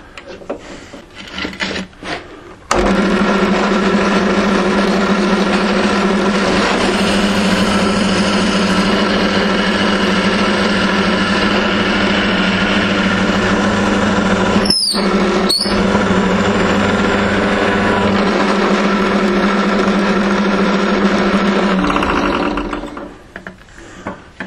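A twist drill grinds steadily through a pot for about twenty seconds, a loud continuous rasping whine with a brief interruption midway, then winds down.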